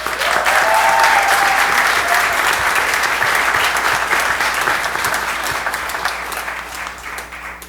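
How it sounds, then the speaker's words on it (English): Audience applause at a town council meeting for a local youth all-star baseball team, a dense sustained clapping that starts loud and slowly tapers over several seconds without dying out. "Let's give them a big round of applause."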